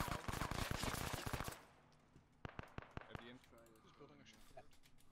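Bursts of automatic gunfire from an Arma 3 firefight: a dense rapid volley at the start, then scattered single shots and short bursts trailing off further away.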